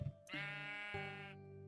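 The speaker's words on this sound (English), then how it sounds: "We have 2 sheep already in our little sheep pen." A sheep in the Minecraft video game bleats, a drawn-out, wavering, nasal cry that is loud, close and heard alone with no talk.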